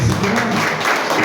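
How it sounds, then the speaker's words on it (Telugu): An audience at a church ministry gathering claps together in a steady, dense burst of applause, loud and continuous for a moment with no talk over it. "కొంచెం గట్టిగా కలిసి చప్పట్లు కొడితే"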